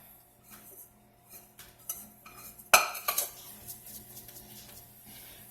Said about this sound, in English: Scrape your bowl out.